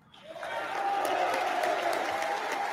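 Applause rises in Congress during Milei's speech, swelling from quiet into sustained clapping from a large crowd that holds steady to the end.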